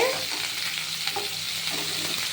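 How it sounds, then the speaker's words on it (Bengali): Steady hiss of eggplant frying in a pan with green chillies and panch phoron, close and continuous, with faint stirring scrapes over the sizzle. "কাঁচা লঙ্কার পাঁচফোড়ন দিয়ে এটা ভাজা হচ্ছে"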